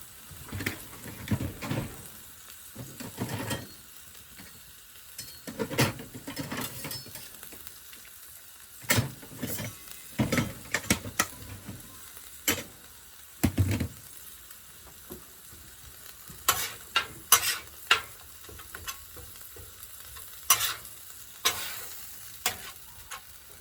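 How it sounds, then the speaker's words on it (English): Sliced onions caramelizing beside thin beef shavings on a griddle for a Philly cheesesteak, a soft continuous sizzle punctuated by scattered spatula scrapes and taps, no voices. "I'm just going to let these caramelize and cook up while we're cooking the meat."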